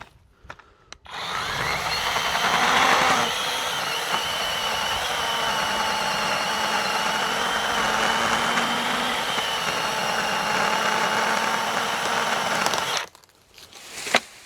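A Dakkın battery-powered saw cuts through olive tree branches during hard pruning, a steady motor whine with the rasp of the blade running for about twelve seconds, starting and stopping abruptly.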